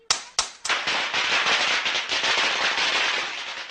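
A toy cap gun fires during Diwali: two or three sharp snapping cracks in quick succession, then a dense, continuous crackling burst that stays loud throughout, like a string of caps going off close by.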